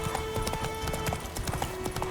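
Horse galloping in the video game The Witcher 3, rapid rhythmic hoofbeats clopping steadily over ambient game sound throughout.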